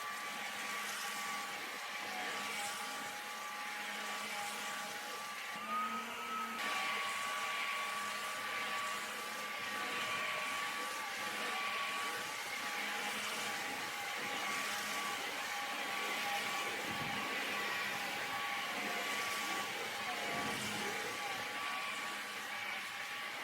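A carpet cleaning machine works steadily over pet-stained carpet during wet and dry passes, giving a continuous whining suction drone with a few shifts in pitch and no voices.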